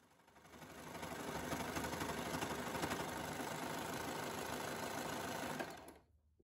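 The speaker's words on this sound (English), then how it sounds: "I'm going to show you an example of what happens when you sew through thick, bulky layers, trimming the edges off with the knife engaged." An overlocker runs steadily through thick, bulky fabric layers with the knife engaged, trimming the edges, a dense continuous whirring hum for about five seconds that then winds down and stops.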